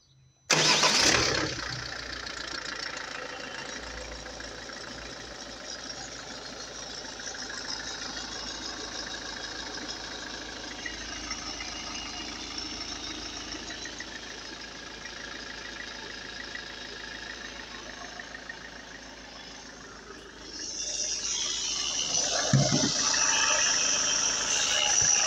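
A Citroën C5 with the 2.2 HDi 163 diesel engine cranks and catches after oil sump work, then settles into a steady idle for about twenty seconds before the engine note rises and roughens near the end.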